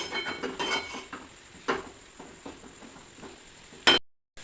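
Fenugreek greens stirred in a pan after the lid comes off, a quiet series of scraping and clinking spoon strokes against the metal pan, ending in one sharper clatter.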